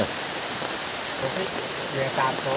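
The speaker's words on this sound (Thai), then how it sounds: "ฝนตกอีกแล้วท่านผู้ชม" Steady rain falls at an outdoor gathering beside a large Bodhi tree shrine in Laos. It makes a constant, fairly close hiss, with faint voices briefly rising near the end.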